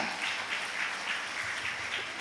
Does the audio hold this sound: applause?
yes